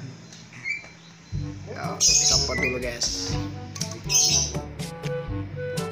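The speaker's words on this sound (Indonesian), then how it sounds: "burung-burung banyak banget" Several birds chirp and squawk in high bursts while people talk over them and a Suzuki GSX motorbike engine with a short Pro Liner exhaust hums steadily underneath.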